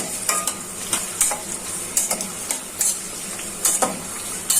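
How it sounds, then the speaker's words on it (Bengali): Chopped onions frying with spices for a beef and chickpea dal bhuna, a steady close sizzle broken by repeated stirring scrapes of a utensil against the pan, with no talking. "পেঁয়াজটা ভালো করে ভাজা হয়ে গেছে, মশলাটা যাতে পুড়ে না যায় হালকা একটু ঝুল দিয়ে দিচ্ছি"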